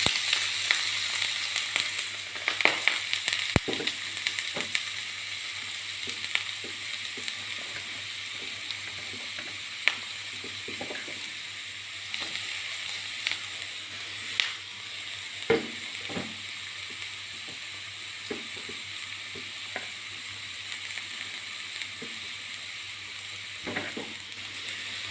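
Chopped onion frying in coconut oil in a pan, a steady close sizzle running throughout, broken by scattered clicks and scrapes of a spoon stirring.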